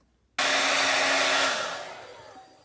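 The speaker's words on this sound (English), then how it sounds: "And then I blow dry it because I'm not a very patient soul." A hair dryer on low heat switches on abruptly and blows steadily over a journal page, a loud close whooshing roar that gradually fades as it moves away or powers down, with no talking.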